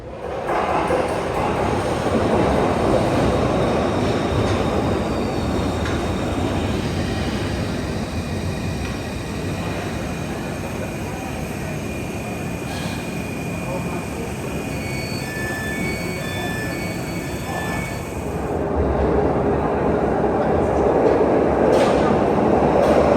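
Glasgow Subway train running through its small tunnels, a steady loud rumble with rail noise and faint squeals, swelling louder near the end.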